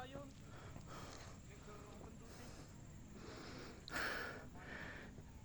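A horse named Moro pants heavily and gives a sharp snort partway through while climbing a hill trail at Monte Cristo in Batangas City, under steady wind and outdoor noise.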